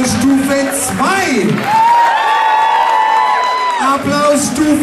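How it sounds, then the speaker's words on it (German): Loud, unbroken applause and cheering fill a carnival hall after a young dancer's show, with whoops, shouts and drawn-out yelled tones layered over dense clapping. "Applaus Stufe 2."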